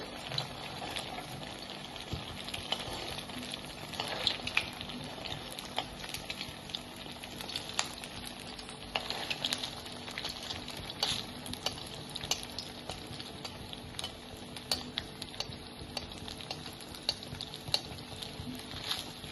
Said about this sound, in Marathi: आता हळूहळू आपल्याला चिकन ब्रेड रोल्स तळून घ्यायचे.